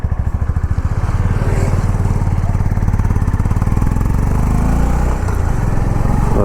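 Honda CB350 motorcycle engine accelerating on a city ride, a loud steady thumping single-cylinder beat that rises smoothly and progressively with the throttle, heard close and alone.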